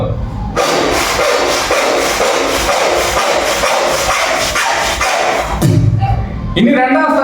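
A mimicry artist performing on stage at a 2025 mimicry competition imitates plywood being cut by a saw, a loud, steady rasping buzz with quick rhythmic pulses that stops abruptly near the end, followed by a brief vocal sound.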